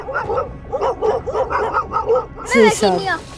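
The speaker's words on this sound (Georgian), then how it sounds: "ერთად თავმოყრილი ძაღლები უსაფრთხო არავისთვისაა" A pack of stray dogs barks in a quick run of repeated yaps and barks nearby, and then a voice speaks at the end.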